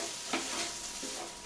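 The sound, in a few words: stirring vegetables into rice in a pan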